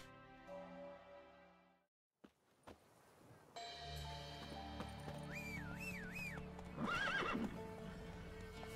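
Roach the horse in The Witcher 3 whinnies in rising, wavering neighs over clip-clopping hooves and ambient game sounds, after a quiet gap.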